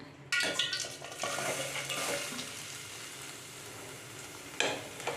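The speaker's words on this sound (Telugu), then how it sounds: "అది వేడెక్కిన తర్వాత అందులో సన్నగా కట్ చేసిన ఆనియన్స్ వేసుకుందాం" Thinly sliced onions drop into hot oil in a pan for an onion egg curry, bursting into a loud sizzle that settles into steady frying, with a stir and utensil clatter near the end.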